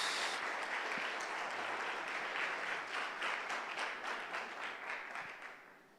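A church congregation applauds steadily across the whole stretch, dense and fairly loud, tapering off toward the end.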